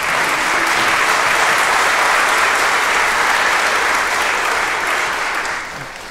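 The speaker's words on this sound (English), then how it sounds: "We should clap for Courtney" Sustained applause from a church congregation at an evening Presbyterian service in downtown Augusta, a dense, steady wash of many hands clapping that holds for several seconds and then tapers off near the end.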